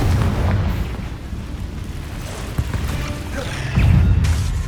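In Hogwarts Legacy, the Confringo blasting spell sets off deep, booming explosions amid a steady low rumble, with one sharp burst partway through and a heavier blast near the end, loud and close.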